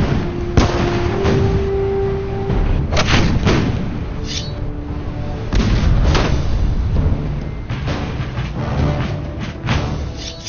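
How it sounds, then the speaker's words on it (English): Cannon fire from ships in a harbor aimed at colonial militia before a Revolutionary War hilltop battle, heard as repeated heavy booms at irregular intervals over a continuous rumbling din. "ships in the harbor try to pin down the militia with cannon fire."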